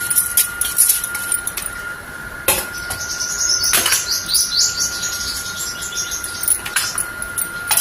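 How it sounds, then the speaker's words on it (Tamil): Two tablespoons of toor dal (pigeon peas) dry-roasting in a pan over a flame, giving a light, steady crackle with scattered clicks and scraping rattles, no voices. "இப்போ அடுத்தது துவரம்பருப்பு 2 டேபிள் ஸ்பூன் போட்டிருக்கேன், அதை வறுத்துக்கிறேன்."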